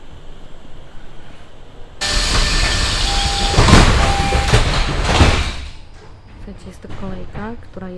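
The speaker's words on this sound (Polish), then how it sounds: "można przejechać się kolejką jednotorową" A loud rush of noise starts abruptly as a Seattle monorail train door opens, with a chime and electronic tones, then a voice makes an announcement.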